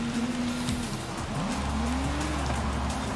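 Large Nissan Titan pickup truck in Forza Horizon 5 approaching from behind, a steady engine drone with shifting pitch and rising low rumble as it closes in, tires hissing over the road, continuous and fairly loud.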